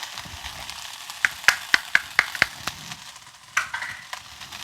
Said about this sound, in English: Stir that around. Got a nice hot pan, as you can see.